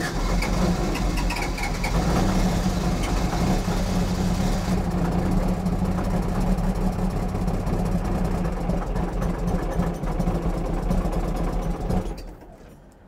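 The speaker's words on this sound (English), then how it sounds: "We finally started, and it is awful." A diesel engine running roughly after being rebuilt with a new head, a loud, close, uneven rumble that holds steady for about twelve seconds before dropping away at the end.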